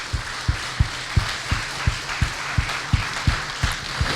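A church congregation at a Sunday service clapping together in a steady unison rhythm of about three claps per second, with a diffuse wash of room applause underneath.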